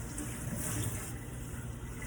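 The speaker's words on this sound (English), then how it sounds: "Second wash, we're really making sure it's thoroughly rinsed all around" Water runs steadily from a tap, rinsing hair during a second wash, a soft continuous close hiss and splash with no break.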